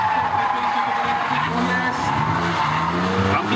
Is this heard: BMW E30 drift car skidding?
yes